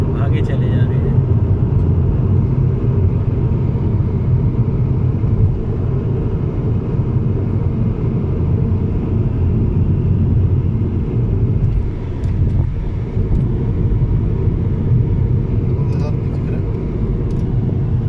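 Car driving along a road in Stockholm, Sweden, a steady low engine and tyre rumble from inside the vehicle that continues unbroken throughout, with no clear pauses.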